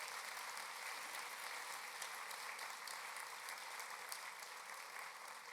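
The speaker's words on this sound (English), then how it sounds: "That applause is for everybody on the committee" Sustained applause from a gala audience honoring the event committee, a continuous wash of many hands clapping, heard at a distance and fairly quiet.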